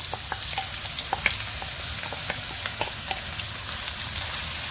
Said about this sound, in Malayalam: ചൂടായ വെളിച്ചെണ്ണയിലേക്ക് നമുക്ക് അരിഞ്ഞു വെച്ചിരിക്കുന്ന സവോള ഇട്ട് കൊടുക്കാം.